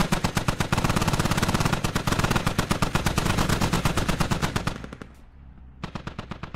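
DShK heavy machine guns in the video game Squad firing long rapid bursts, loud dense pounding shots in a steady stream, then a brief lull before another short burst starts.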